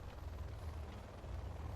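Helicopter rotor in the video game Generals Zero Hour, a steady low thudding churn, faint and continuous, with no talking.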